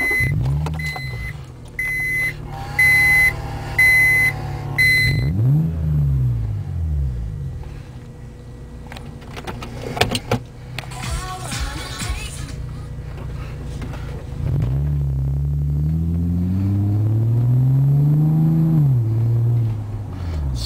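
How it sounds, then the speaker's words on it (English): An Acura RL fitted with a Remus catback exhaust and intake idles and pulls away, a low engine drone under a series of electronic chime beeps, then a rising, swelling rev toward the end. "remus catback exhaust system and an intake on an Acura RL."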